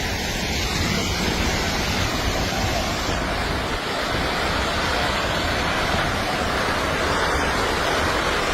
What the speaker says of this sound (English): The sound of this landslide is so intense that it reminds me of a raging river.